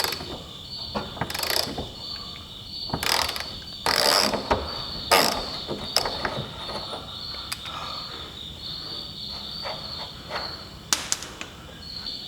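A jack is worked to lift the cab off a C10 pickup truck. It makes repeated ratcheting clicks and thumps at an irregular pace over a steady high outdoor insect chirr, nearby and moderately loud, with no talking.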